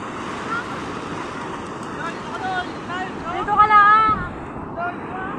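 A boat crosses rough sea with large waves after Typhoon Carina, its hull thumping and sloshing under strong wind buffeting the microphone, with people talking over the noise.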